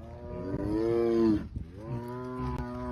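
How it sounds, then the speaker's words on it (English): A tiger gives a long, low, moo-like call resembling a cow's lowing, followed by a pause and a second drawn-out lowing call, fairly close and alone. "Are you mooing because you want to be one with the cows?"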